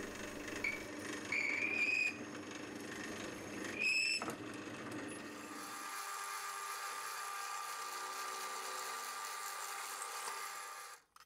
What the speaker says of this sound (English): Bit of cutting fluid on the drill bit always helps to drill through the steel.